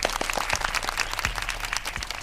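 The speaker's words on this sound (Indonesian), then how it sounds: "gue akan tepuk tangan yang nyata untuk kalian sekarang juga" One person clapping alone in a quiet room, a steady run of sharp, close hand claps lasting a couple of seconds with no crowd behind them.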